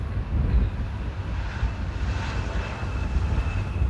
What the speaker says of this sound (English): The next plane is already a short final.